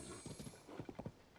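Horse hooves in the video game Zelda: Tears of the Kingdom, a quick run of soft, fairly faint clip-clop beats at a galloping rhythm.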